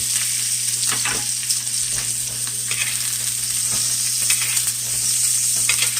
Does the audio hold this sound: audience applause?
no